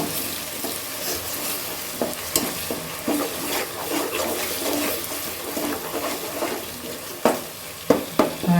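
Onion, garlic and ginger fry in a pan for chicken biryani, a continuous sizzle broken by repeated spatula stirs and scrapes, growing sharper toward the end.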